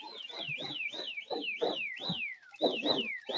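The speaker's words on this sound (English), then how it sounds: "using his little air blower" A small air blower runs in a workshop, giving off a loud, close, repeating wail of falling whistle-like tones, much like a car alarm, with a brief pause before it starts again.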